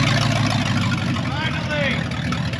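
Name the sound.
engine of a Volga car running after being restarted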